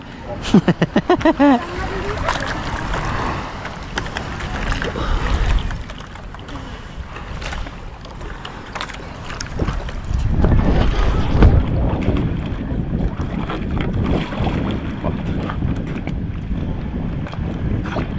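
Rough sea on a boat out in open water: constant loud wind buffeting the microphone over sloshing, surging waves, with several rattling knocks early on and people talking throughout.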